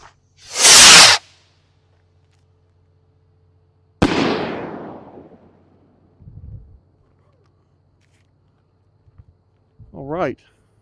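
A large firework rocket shoots up with a loud whooshing hiss, then a sharp crack bursts into a crackling decay, followed by a few softer pops and a brief rising whistle.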